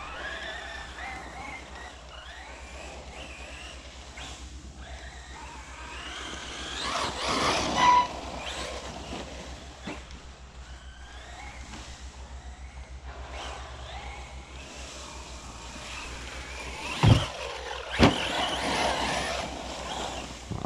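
An Arrma Outcast 4S V2 RC car's electric motor whines and surges as it drives outdoors, with a steady mid-level drone, a couple of revving bursts and some knocks and bumps, and no talking.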